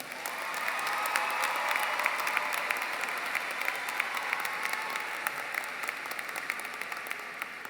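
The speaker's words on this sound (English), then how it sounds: "You may now applaud all of our outstanding students" A high school graduation audience breaks into sustained applause, a dense, even roar of many hands clapping that holds steady throughout, with scattered sharper claps rising above it.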